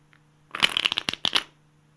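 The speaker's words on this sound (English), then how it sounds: "you should be able to control the bottom cards from falling and be able to do an in-the-air riffle shuffle" Playing cards get an in-the-air riffle shuffle at full speed, making one quick, close burst of crisp fluttering clicks that lasts about a second and is heard alone.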